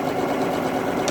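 Sewing machine running fast while stitching a seam, a steady rapid mechanical whir with fine repeating needle ticks, close and loud, with no talk.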